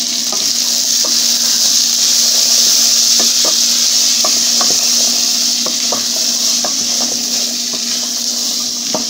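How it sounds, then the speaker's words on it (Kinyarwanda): Peas going into a hot pan of peas and carrots and being stirred, with a steady loud sizzle throughout and a series of short scraping stir strokes, no talking. "Rero tugiye gushyiramo amashaza."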